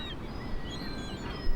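Gulls call with thin, high wailing cries over a dense, noisy background of wind or surf. The calls sound close and blend into one another, and no voices are heard.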